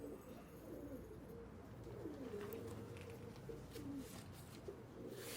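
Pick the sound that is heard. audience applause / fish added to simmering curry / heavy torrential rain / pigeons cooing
pigeons cooing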